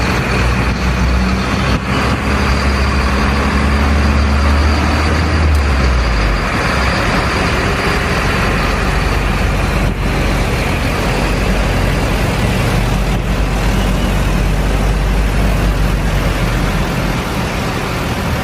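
Steady road traffic rumbles around a car during a drive, loud and continuous with low engine drone, occasional passing vehicles and a deep rumble that fades and returns; no one speaks.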